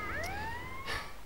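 A police car siren wails in GTA: Liberty City Stories, a single rising tone sweeping up and holding, loud and close with no talk over it.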